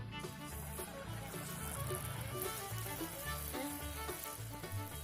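Plantain bajji crackle and hiss steadily in a pan of hot oil, a dense, continuous close-up sizzle with no voices over it.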